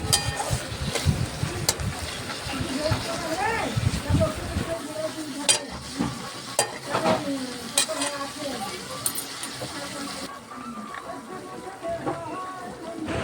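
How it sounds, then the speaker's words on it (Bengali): Chopped tomato stirred into a sizzling pan of frying fish-head and soybean curry, with spoon scrapes and a steady crackle of oil up close, fading quieter toward the end. "এরপর যে টমেটোটা কেটে রেখেছিলাম সেই টমেটোটা আমি দিয়ে দিলাম ভালো করে মিক্স করে নিচ্ছি"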